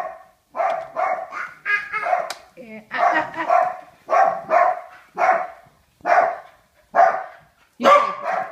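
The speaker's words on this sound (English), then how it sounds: "Noisy dogs, you say ah ah." Dogs bark close by and loudly in a steady series of about ten sharp, yelping bursts, each separated by a short gap.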